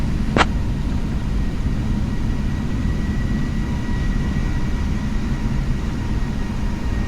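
A Boeing 777 on its takeoff roll in the PMDG flight simulator, departing runway 24 right at Los Angeles, makes a loud, steady broadband engine roar that holds constant throughout, with one brief high tick near the start.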